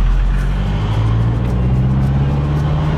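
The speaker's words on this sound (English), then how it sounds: "There's a car coming down here." A car approaches along a road, a loud continuous engine drone with a slowly rising pitch as it draws near, heard from close by with no talking.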